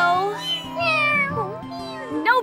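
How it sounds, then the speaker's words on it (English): Kittens in a children's cartoon meow in a string of high, close, overlapping cries over a steady musical backing. "they're Titi's adorable little kittens"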